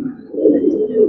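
A breeding pigeon gives a low, close cooing call, one soft throaty phrase rolling on continuously with no voices.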